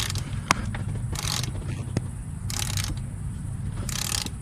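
Screws are worked loose from a blow-off valve on a 2022 Ford Bronco with a ratcheting tool, producing repeated clicking bursts and occasional sharp metallic ticks over a low steady background.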